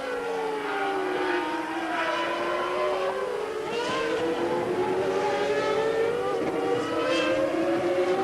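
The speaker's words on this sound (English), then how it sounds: "Both these cars, Schumacher's Benetton and Hill's Williams, running exactly the same Renault V10 engine." Formula 1 cars with Renault V10 engines, a Benetton and a Williams, racing at the 1995 European Grand Prix at the Nürburgring, wailing continuously with rising and falling engine pitch as they pass through corners and straights.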